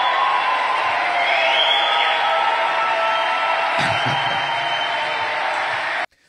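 A small crowd cheers and whoops at a political rally announcing a running mate, a thin but sustained roar of voices with scattered shouts, steady throughout and cutting off abruptly at the end.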